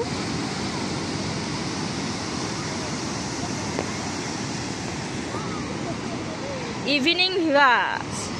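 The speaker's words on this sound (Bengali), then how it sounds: "সমুদ্র ঢেউ।" Sea waves wash onto Puri beach in a steady roar of surf, with wind buffeting the microphone and a brief burst of voices and movement close by near the end.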